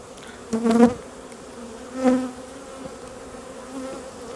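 Honeybees buzz in two short close bursts during a hive inspection and cutout, then a faint steady hum continues alone.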